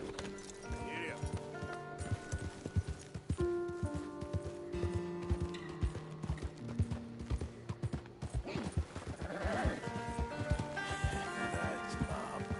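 A horse ridden by a Hawaiian cowboy clip-clops along at a steady walking rhythm, its hooves close and distinct, while the rider speaks and urges it on.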